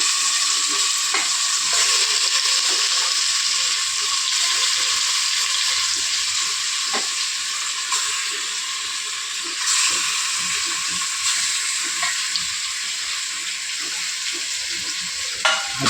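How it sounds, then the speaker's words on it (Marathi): Mutton for a spicy Satara-style curry fries in a pan with a loud, continuous sizzle. Scraping stirs and clinks from the spoon break through now and then. "आता हे आपण मटण त्याच्यात टाकायचं."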